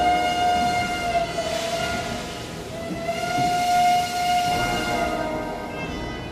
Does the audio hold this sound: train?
yes